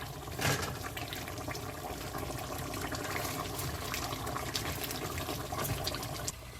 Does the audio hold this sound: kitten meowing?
no